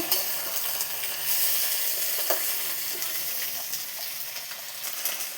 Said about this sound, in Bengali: আলুগুলোকেও আর একটু ভাজবো পেঁয়াজ কালির সঙ্গে